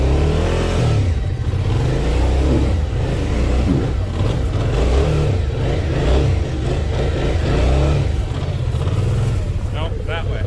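An off-road vehicle engine near a four-wheeler trail revs and labors loudly as the clutch is let out, a continuous rising and falling drone close by, with people talking over it.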